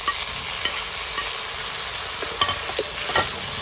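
Finely chopped tomatoes hit hot oil with mustard seeds and sizzle loudly in a steady hiss, with a few stirring scrapes and pops close by.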